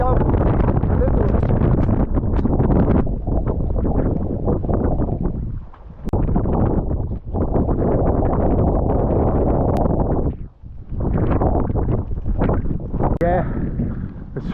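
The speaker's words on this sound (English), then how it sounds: "this wind may hopefully die down a little" Strong gusty wind buffets the microphone on an exposed mountain slope, loud roaring rumble that surges and briefly drops, close and harsh, with no talking.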